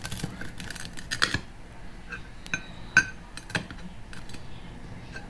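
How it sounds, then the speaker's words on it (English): A knife cuts through a crispy homemade egg roll, making a series of sharp crackling crunches and light clinks against a plate, close and fairly quiet. "I'm going to cut one open here. As you can hear, that is nice and crispy."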